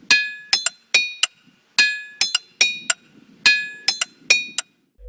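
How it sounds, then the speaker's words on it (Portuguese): Sharp metallic hammer strikes on ringing rock, each ringing out like a small bell, in uneven clusters of two or three with brief decaying tones between, close and clear. "Se bater em uma rocha com um martelo, ouvirá como se fosse um sino."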